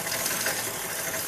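A pedal on an Alton Chaser 21-speed bicycle is tightened by turning the cranks backwards, giving a steady, close ratcheting whir of the freewheel with no talking.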